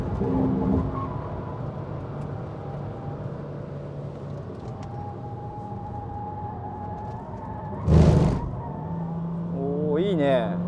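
A high-mileage Honda Fit with a CVT and paddle shifters runs at full power around Fuji Speedway. The engine drones steadily from inside the cabin, a sharp burst comes near the end, and a person talks over it.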